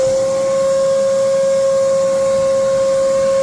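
A RIDGID 6 gallon NXT wet/dry vac runs steadily, a loud, close, continuous motor whine with a strong sustained tone over airy rushing hiss, unchanging throughout.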